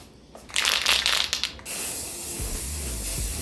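Aerosol spray can laying primer onto a carbon fiber car hood, loud hissing bursts for about a second, then a softer steady hiss with low rumbles.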